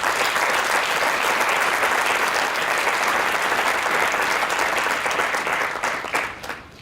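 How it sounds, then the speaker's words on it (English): Graduation ceremony audience breaks into loud, dense applause that holds steady for several seconds before thinning and trailing off near the end. "So I ask you to please give them a round of applause"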